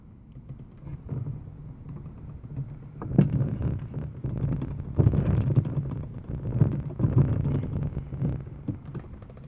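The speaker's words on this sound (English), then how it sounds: "now I'm going to take it on the level 1 of the pasta machine, which is the thickest level" Hand-cranked pasta machine rolling a sheet of polymer clay, low muffled rumbling and clunking turns close by, uneven and soft, with no talking.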